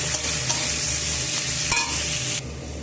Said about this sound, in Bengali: এটাকে আমি এখানে দিয়ে দিয়েছি ফোড়নের জন্য জিরা কাঁচা লঙ্কা পেঁয়াজ